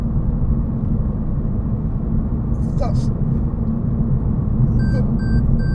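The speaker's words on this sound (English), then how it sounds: "the biggest amount of noise you're ever going to hear in this car. Tyre noise." Steady low road roar of tyres rolling on pavement inside a moving Toyota Yaris, a loud constant rumble throughout, with a voice briefly speaking over it and a short electronic chime near the end.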